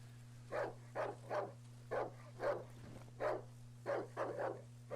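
Several dogs bark in a dark survival horror game, about nine sharp barks spaced irregularly over a steady low electrical hum, fairly close and moderately loud, with no voices.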